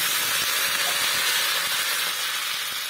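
Vadagam sun-dried lentil crisps frying in hot oil for tempering, giving a steady bright hiss and sizzle close by with no talk.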